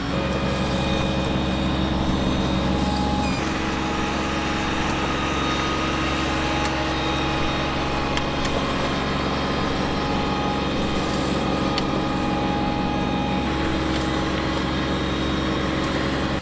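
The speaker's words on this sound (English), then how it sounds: "Their hydrostatic drive New Holland boomer tractor is then used to power harrow the soil and drill grass." A New Holland tractor with hydrostatic drive runs steadily while power harrowing soil, its engine droning with a continuous tonal hum at a constant level and no speech.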